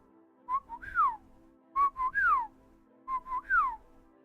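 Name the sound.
person whistling imitating a bird call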